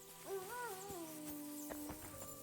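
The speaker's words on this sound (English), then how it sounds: "Definitely heard a wolf there." A wolf howls in the medieval video game Kingdom Come: Deliverance II: one faint, distant, wavering howl that rises, then glides down and holds, with a few soft ticks in the background.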